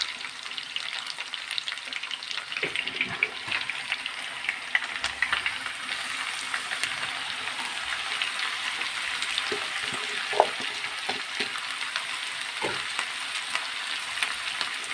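Spinach dropped into a pan of cooked potatoes, a steady hiss of frying with a few soft stirring clunks and scrapes, close and continuous for the full stretch with no talking.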